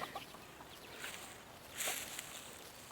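Chickens clucking faintly at a Thai poultry farm raising chicks. Soft, scattered clucks and calls come in brief bursts over low background noise.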